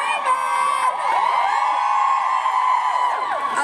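A large crowd screams and cheers at a closing ceremony, a dense, loud and continuous roar of shouting voices and whoops that holds steady throughout.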